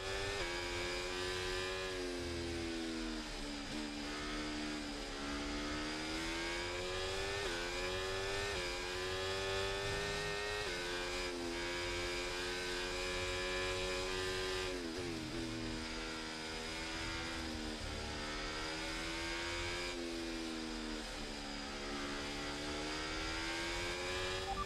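An F1 race car in the F1 24 video game drives on track, its engine a loud, continuous high whine that rises and falls through gear changes, with sharp shifts near 4, 11, 15 and 20 seconds and no talk.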